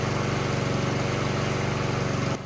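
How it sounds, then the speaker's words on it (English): A repaired small engine that used to surge now runs at an even, steady throb, loud and close, with the sound dropping off abruptly near the end. "Let's let it run long enough for the choke to open"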